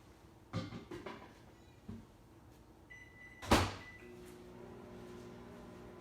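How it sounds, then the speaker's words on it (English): A microwave oven heating puppy chow in a home kitchen: a door clunk and a few quiet knocks, a button beep, then a steady low hum of the oven running alone. "Now I'm gonna put it back in the microwave for another 30 seconds."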